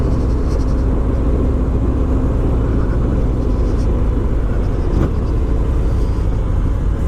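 A 2019 Harley-Davidson Fat Bob with a Milwaukee 8 engine rumbles steadily while being ridden, a continuous low, loud drone with road and wind noise and no clear revs or gear changes.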